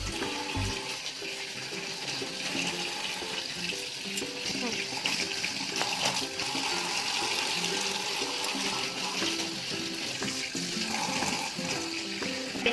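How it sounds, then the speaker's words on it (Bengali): Eggplant being rinsed under a running tap, a steady continuous gush of water splashing close by for the whole stretch, with no one talking. "বেগুনও ধুয়ে নিই"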